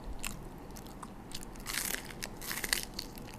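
Pickled shrimp in sweet soy sauce crunched between the teeth, with crisp bites and wet chewing close to the mic at a quiet level, no talking.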